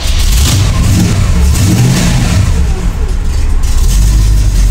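A Holden car with a TH180 automatic transmission, needing a tune-up and failing to idle, runs loudly and steadily close by, its engine revving unevenly throughout.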